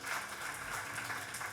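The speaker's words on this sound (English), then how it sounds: "Come to the stage, round of applause, please." An audience at a PC gaming event claps steadily as three guests walk onto the stage, a continuous, even patter of many hands heard from a distance and at moderate loudness.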